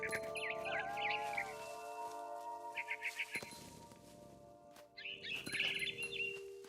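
Bird chirping in a narrative video game, short bursts of bright tweets repeated in a few clusters over a quiet background of soft game ambience and music tones.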